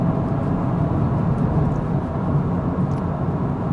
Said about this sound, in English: you hear a lot of the world outside and underneath the car. This, and you also hear the engine.